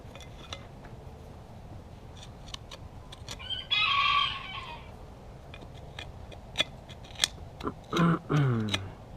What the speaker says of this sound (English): Going to be a chicken,